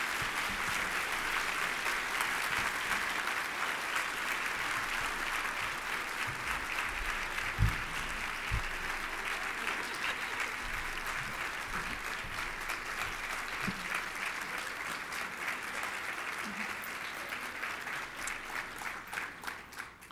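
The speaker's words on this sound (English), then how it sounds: "So let's give Ms. Connie Carson another round of applause." A conference audience at an opening session gives a long round of applause, with dense, steady clapping that lasts about twenty seconds and tapers slightly toward the end.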